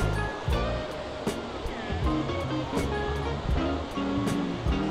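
Surf at Porthmeor Beach in St Ives, Cornwall, washes steadily onto the sand as a continuous outdoor roar, with a gusty rumble of wind across the microphone and brief sharper sounds scattered throughout.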